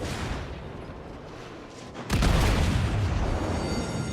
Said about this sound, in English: We start exchanging secondary fire.